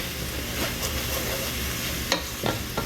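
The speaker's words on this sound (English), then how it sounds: "now we're just gonna stir our onions and garlic and butter" Onions, garlic and butter sizzle steadily in a pan for beef stroganoff, with a broad frying hiss and a few soft scraping stirs near the end, close and moderately loud.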